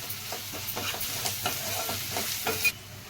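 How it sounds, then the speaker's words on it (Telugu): Ginger-garlic paste fries with onions in hot oil for a village-style mushroom curry, giving a steady sizzle while a spoon stirs with a regular rhythm of scrapes. "ఇప్పుడు ఫ్రెష్గా దించిన అల్లం వెల్లుల్లి పేస్ట్ వేసుకుందాం, 1 స్పూను. ఈ పచ్చివాసన పోయే వరకు మనం వేపుకోవాలి."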